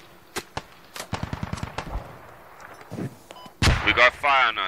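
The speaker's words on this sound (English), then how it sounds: "We got fire on us." Gunfire in the tactical shooter game Squad on the Yehorivka map: a scattered run of sharp shots, some in quick bursts, near and far, followed by louder booming impacts and voices talking over the end.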